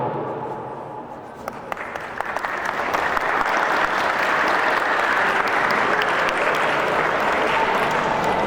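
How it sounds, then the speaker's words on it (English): Students and guests at a school storytelling competition break into applause, starting thin and quieter, then swelling after a second or two into a full, steady roar of clapping that holds to the end. "Please start clapping for each one of you."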